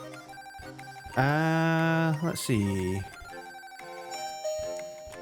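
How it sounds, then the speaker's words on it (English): A doorbell chimes loudly indoors, a few sustained electronic ringing tones, with a person speaking briefly before it. "Oh, someone's ringing the doorbell."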